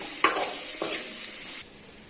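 Garam masala and spices sautéed with boiled elephant foot yam in a hot pan, a steady close sizzle with a couple of scraping stirs before the frying noise suddenly drops away.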